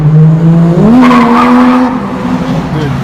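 A drift car slides along the street near Daikoku parking area in Tokyo, its engine note rising sharply with a squealing tire slide, loud and close for a few seconds, with voices faintly underneath.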